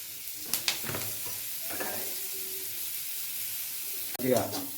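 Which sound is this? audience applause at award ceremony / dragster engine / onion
onion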